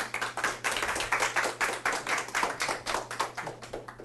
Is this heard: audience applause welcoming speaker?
yes